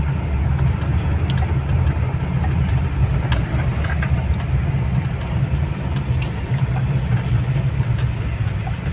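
A Chevrolet Trooper 4WD on knobby tires drives along a road near Palembang, giving a steady, loud, droning engine-and-tire hum with no break, and a few faint clicks over the top.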